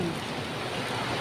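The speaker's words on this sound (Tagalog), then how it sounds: "Wow, ulan!" Rain falling steadily by a river, a dense even hiss of drops on water and ground heard close and fairly soft, with no talking over it.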